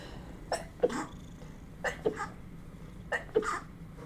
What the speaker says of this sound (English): Ooh, that was a big sneeze.